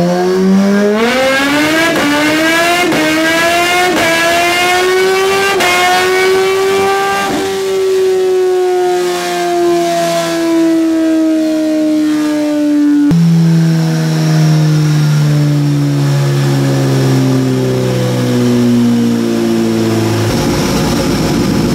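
A Kawasaki Z H2 motorcycle fitted with a slip-on exhaust, Dynojet PCV and Sprint filter revs hard on a dyno: several quick rising throttle blips, then a long sustained wide-open pull and a drop back to a lower, rougher engine note, all loud and close.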